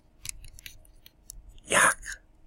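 A marker writing on a board in a math lecture: several short, squeaky strokes, then one longer, louder squeak, close and alone in a quiet room.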